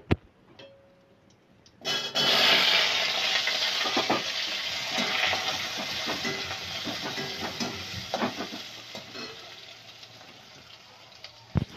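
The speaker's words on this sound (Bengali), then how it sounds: "এবার এর মধ্যে দিয়ে দেব কেটে রাখা আলুগুলো" Cut potatoes drop into a pan of spices for soybean curry, setting off a loud, sudden sizzle that settles into steady frying with occasional scrapes and crackles.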